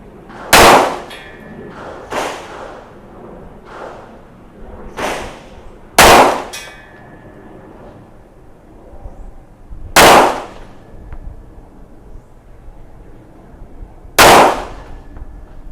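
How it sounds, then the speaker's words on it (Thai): An all-steel CZ 75B Omega pistol is test-fired on a range. Seven sharp, loud cracks ring out one at a time with pauses of one to four seconds between them, and no voices are heard. "ทดสอบนะครับตัวซีเซ75 b โอเมก้า นะครับผู้ยิงพร้อม พร้อมแล้วเริ่มยิง"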